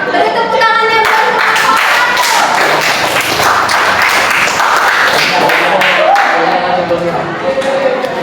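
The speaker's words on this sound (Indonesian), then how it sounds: "Beri tepuk tangan yang baru." Applause from a seated group at an emotion-management workshop session, busy clapping and thumps mixed with crowd noise and some talking, loud and continuous.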